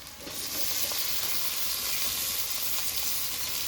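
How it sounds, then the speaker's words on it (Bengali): Tomatoes and green chilies fry with onions in oil in a pan, giving a steady close sizzle that swells in the first half-second and then holds unbroken. "টমেটো কাঁচা লঙ্কাটা দিয়ে দিয়েছি, এবার এই পেঁয়াজগুলোর সাথে ভালো করে এগুলো একটু ভেজে নেব"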